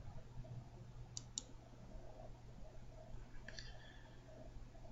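A computer mouse clicks twice in quick succession, then a brighter click follows a couple of seconds later, all faint over a quiet low hum.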